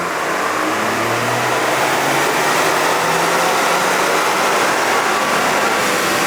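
A Toyota Tacoma engine runs hard on a dyno during tuning, a loud sustained roar with a rising tone through the pull, steady and close throughout.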